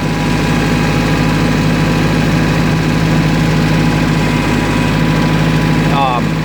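LS compact tractor with a 25 net horsepower engine idling nearby, giving a loud, steady low throb that runs unbroken to the end, with a voice briefly audible over it.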